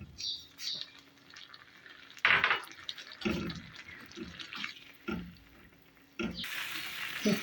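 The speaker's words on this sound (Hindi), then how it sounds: "भून के फिर मैं पानी डाल के दम दूँगी।" Water poured into a frying yogurt-tomato masala for egg koftas, giving bursts of splashing and sizzling liquid noise in several pulses, with a louder rushing stretch at the end, moderately close.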